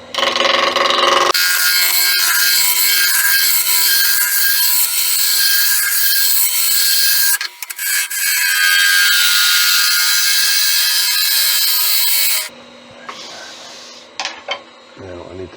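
A wooden sword handle is being rounded off on a wood lathe: a loud, continuous abrasive cutting roar with a brief break partway through, then it stops and only quieter scraping and knocking remain.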